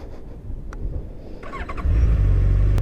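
A Honda CB1100 motorcycle engine cranks and catches, then settles into a steady, smooth idle that is close and fairly loud, with no rumble and no talking.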